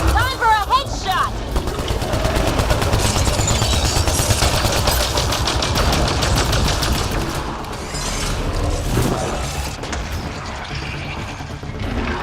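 Rapid automatic gunfire rattles through a sci-fi shooter firefight, dense bursts of shots layered with explosions and effects, loud and sustained, with a voice briefly mixed in.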